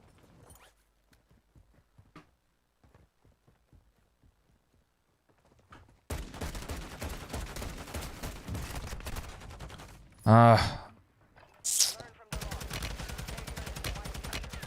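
Gunfire in the Warzone 2.0 video game: quiet footsteps, then a loud burst of rapid automatic shots with a sharp blast in the middle, followed by more sustained firing.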